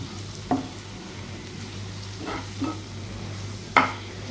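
Toasted bread masala with cumin powder and red chilli powder being stirred in a pan, soft sizzling under a few distinct scraping strokes of the spoon, with no one talking.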